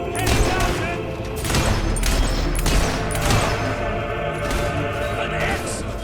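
Dense gunfire rolls through a battle in the video game Fable 3 on Xbox Series X, near and loud, with volleys and booms layered into a steady din as voices shout over it.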